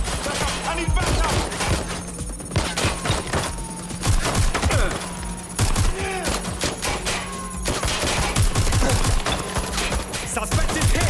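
Dense gunfire in Watch Dogs: Legion, with bursts of rapid shots and scattered single cracks that keep on for the whole stretch. Loud and close, with a steady hum running underneath and faint voices now and then.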